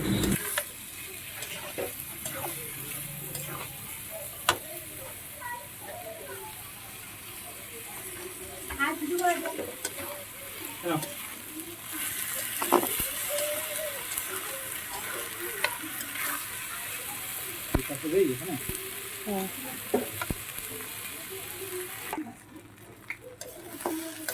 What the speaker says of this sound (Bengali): এখন আমি এটা হালকা চালটাও ভেজে নেব এর সাথে